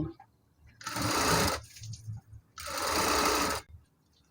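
A sewing machine stitching a skirt hem runs in two steady whirring bursts of about a second each, close and loud, with a short pause and light handling noise of fabric between them.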